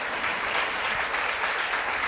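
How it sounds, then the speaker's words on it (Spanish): Church congregation clapping in praise during a worship service, a loud, dense burst of applause filling the room without pause. "fuerte ese aplauso a nuestro Dios"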